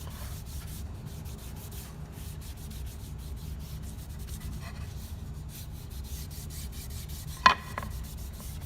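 Briwax furniture wax being rubbed into a wooden surface with a cloth, a steady, soft, low rasping friction that continues evenly throughout, with one brief sharp knock near the end.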